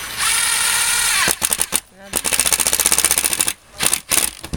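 An outdoor light fixture is screwed in with a power driver, giving loud close bursts of buzzing whir broken by short pauses, with people talking around it.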